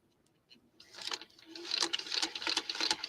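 A sewing machine stitching a quilt, starting after a quiet moment with a few taps and then a fast, rhythmic mechanical patter of needle strokes, fairly faint and close.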